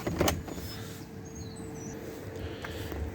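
An electric mirror motor whirs inside a Swift Sundance motorhome, a faint, steady mechanical hum running continuously under a quiet background.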